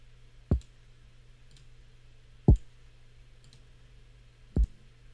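A computer mouse clicks three times at steady intervals of about two seconds, each a close, sharp click over a quiet background hum, with no talking.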